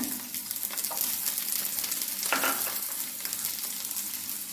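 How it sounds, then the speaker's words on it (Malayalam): Finely chopped onion frying in a spoonful of oil in a hot pan makes a continuous dense sizzle with a brief louder crackling burst midway. "പാൻ ചൂടായിട്ടുണ്ട് അതിലേക്ക് ഞാനൊരു ഒരു സ്പൂൺ എണ്ണ ഒഴിച്ചു കൊടുക്കുകയാണ്"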